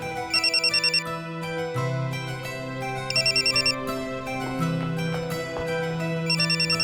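An electronic phone ringtone trills in repeated bursts over a looping melodic tune, loud and close, with no talking.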